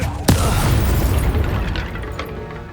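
The Incendio fire spell goes off in Hogwarts Legacy with a sharp, loud crack and then a deep, rumbling boom. A roaring wash of fire follows and slowly dies away.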